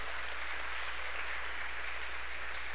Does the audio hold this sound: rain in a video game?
no